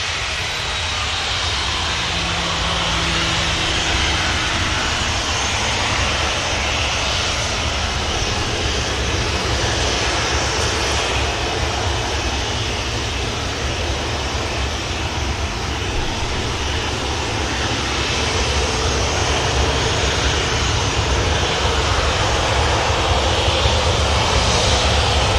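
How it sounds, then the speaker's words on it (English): A Ryanair airliner at Manchester Airport idles after pushback while waiting to taxi, its engines a steady, continuous broadband roar that holds level throughout with no talking. "Ryanair for Alicante pushed, just awaiting taxi clearance."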